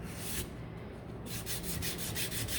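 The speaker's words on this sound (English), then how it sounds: "you're just going to want to take your sandpaper" Sandpaper rubbing back and forth along a wooden broom handle, a steady close scratchy rasp that pauses briefly then resumes in a run of quick repeated strokes.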